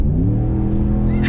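A 2019 Ram Rebel pickup with a Borla exhaust revs hard on a straight road in Mexico, its deep, continuous engine roar rising steadily in pitch, loud and close throughout.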